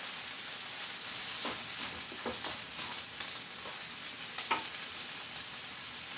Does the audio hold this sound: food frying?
yes